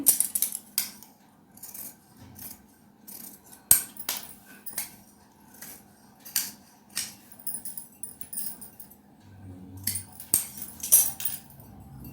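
Scissors snip through cotton fabric while a teenager's short frock is cut out, producing a series of quick, crisp close-up cuts spaced irregularly with small handling clatters between them and no voices.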